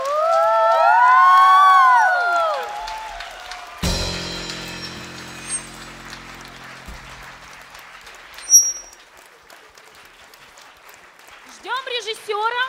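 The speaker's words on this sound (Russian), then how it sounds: "ваши аплодисменты автору мюзикла Григорию Файну" Audience applause at a musical fairy-tale improvisation show in Yekaterinburg, given for the show's author Grigory Fain. It bursts out after a spoken announcement and fades over a few seconds, and another voice follows near the end.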